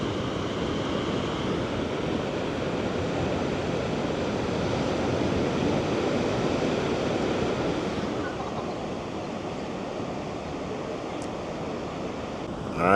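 Ocean surf on the shore at Casablanca, Morocco, makes a steady broad wash of waves with wind buffeting the microphone, continuous and fairly loud, easing slightly toward the end, with no voices.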